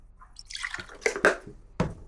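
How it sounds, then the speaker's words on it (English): Oat milk is poured for a glaze on a Zopf bread, heard as a few short liquid drips and splashes, close and fairly clear, with no talking. "So just add a little milk here."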